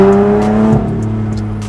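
A Lotus Evora V6 revs loud and close during a test drive, with a rising engine note that drops sharply as the throttle lifts, then settles into a steady lower drone.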